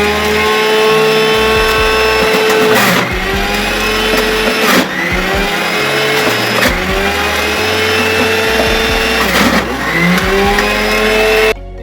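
A kitchen blender whirring through tomato, spinach, carrot and beetroot for juice, a loud, close motor drone with shifting pitch, briefly dipping and surging several times as the load changes.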